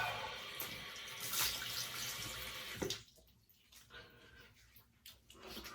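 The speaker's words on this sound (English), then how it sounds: "Cold water splash. We're going to close those pores up." Cold water splashed onto a freshly shaved face at a sink, a loud running-water wash for about three seconds, then quieter intermittent splashes and drips.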